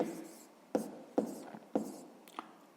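Pen strokes on paper while working a sixth-grade percentage exercise: a few soft scratchy scribbles punctuated by four or five sharper taps, close and quiet, with no talking.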